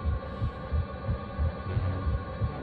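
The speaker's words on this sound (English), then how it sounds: "Heartbeat sounds are gross." A rhythmic heartbeat effect from The Legend of Zelda: Skyward Sword thumps low and steady, a repeating double pulse over a continuous dark hum, with no talking.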